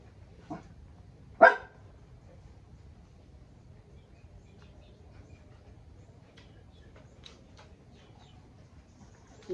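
A dog lets out a couple of short barks, one faint and one louder, early on, followed by a long stretch of quiet ambient outdoor noise with faint scattered sounds.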